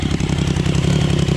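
A Yamaha Raptor ATV with a swapped-in 1050cc engine runs warm and steady, a loud close mechanical drone with a fast rhythmic pulse and clattery texture while residual coolant burns off the exhaust.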